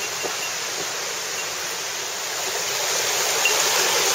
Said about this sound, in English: I hear water falling further up. I may have come up against a waterfall.